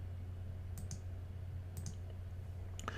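A computer mouse gives a few faint, crisp clicks, spaced irregularly in pairs and singles over a quiet background hum with no speech.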